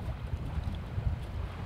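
Low, steady chugging of a sailboat's engine as it motors slowly across calm water with no wind, a soft rhythmic throb with light wind noise over the microphone, no voices.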